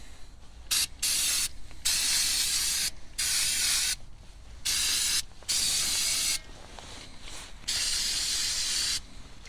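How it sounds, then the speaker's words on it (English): Hot brake cleaner is sprayed onto the binding rear brake of a Mk4 Golf in several sharp, hissing bursts of one to two seconds each, separated by short pauses. The spray is close and loud, with no talking. "See if we can spray off any loose debris with some hot brake cleaner."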